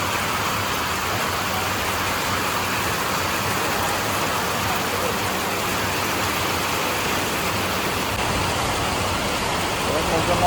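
Heavy rain pours down steadily, a dense, even wash of noise that persists throughout, loud and close, with a voice talking over it.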